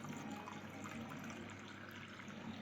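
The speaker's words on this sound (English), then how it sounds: "This is how I'm taking water from the purifier." Water runs steadily from a home water purifier tap into a container in a kitchen, a continuous close splashing trickle with no pauses and no talk.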